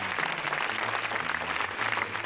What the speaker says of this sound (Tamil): அனைவரும் கரகோஷங்களை எழுப்புங்கள்.